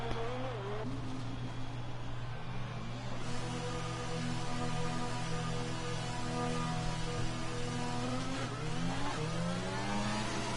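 McLaren Formula 1 car in a racing video game, its engine whining at high revs with repeated gear-shift pitch sweeps, steady and prominent throughout.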